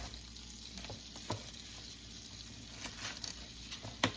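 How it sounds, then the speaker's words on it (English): Butter browning in a pan while keto shrimp and grits are being made, a steady close frying sizzle with a few soft ticks and pops scattered throughout. "And I do let my butter brown just a little bit."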